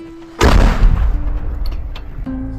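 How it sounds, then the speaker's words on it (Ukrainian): A single sharp, loud blast bursts out and rumbles on for a couple of seconds, with a low steady hum before and after. "Постріл!"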